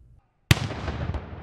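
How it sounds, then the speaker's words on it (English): Outside a statehouse during a funeral honor, a ceremonial cannon fires a single salute, a sudden loud boom after near silence that rolls into a long reverberating rumble. "Outside, cannon thundered in salute."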